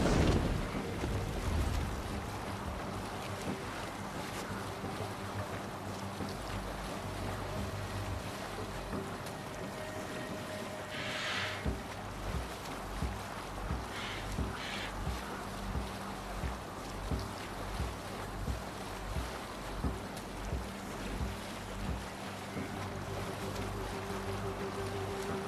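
Sailing ship under sail in Assassin's Creed Valhalla, a steady broad wash of wind and water running the whole time with a faint low rumble and soft periodic swells, no voices.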